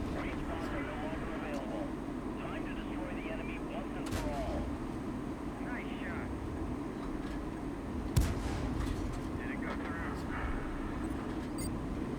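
Booming tank gunfire in a video game, with a sharp loud shot near the middle over constant background rumble and low chatter.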